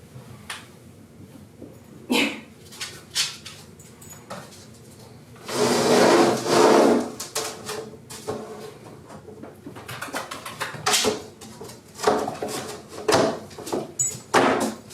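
Puppy playing on a wooden wobble board, giving irregular knocks and clunks as the board tips, plus a louder rumbling, scraping stretch in the middle, all close by with no talking.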